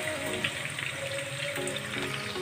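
Sliced onion and fenugreek seeds sizzle in hot oil for a pakora kadhi, a steady close frying hiss with faint crackle throughout and no talk.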